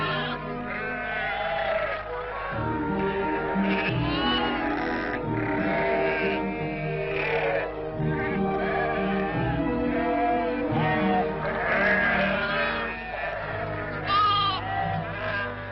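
Sheep at a market bleat again and again, several animals calling over one another in a busy, irregular chorus at close to moderate distance, with no talking.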